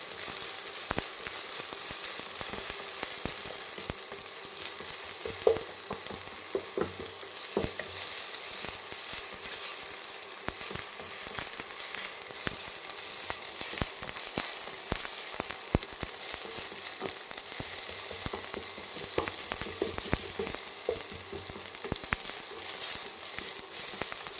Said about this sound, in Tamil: இந்த மாதிரி நல்லா கிண்டணும் ஃப்ரெண்ட்ஸ். ஏன்னா தக்காளி வந்து நல்லா வதங்கணும்.